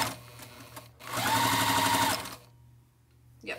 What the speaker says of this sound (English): Now I'm paranoid that I'm sewing without thread again.